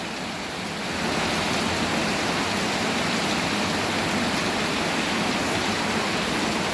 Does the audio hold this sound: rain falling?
yes